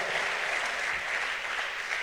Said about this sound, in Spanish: Démosle palmas al Rey.